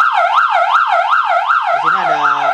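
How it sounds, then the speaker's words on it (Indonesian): An electronic siren driven through a 30-watt loudspeaker horn, loud rising and falling wails repeating at a fast, even pace, switching near the end to a lower, steadier pulsing tone. "Ini di sini ada siren untuk pemadam ya, kuning. Ini merah untuk polisi."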